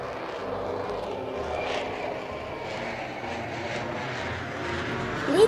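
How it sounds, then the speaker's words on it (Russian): An airplane lands in a children's cartoon, heard as a steady engine roar throughout that swells slightly toward the end, with no talk. "самолет авиакомпании Лоутаун совершил посадку"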